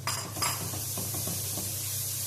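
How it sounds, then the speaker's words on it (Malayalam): Onions stirred with garlic-ginger paste in a pan, a steady low sizzle with a few soft spoon scrapes against the metal, close and continuous. "നന്നായിട്ട് ഇളക്കി കൊടുക്കുക"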